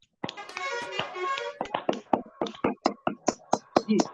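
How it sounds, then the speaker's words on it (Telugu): A group of people clapping their hands together, starting as a dense burst of many overlapping claps and thinning into a slower series of distinct, fairly sharp claps, with a voice speaking over the start. "అందరూ కొట్టారు క్లాప్స్."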